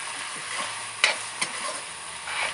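Village-style chicken gravy with black pepper stirred in a pot, a steady soft sizzle with a couple of sharp scraping knocks of the spoon against the pot, no talk.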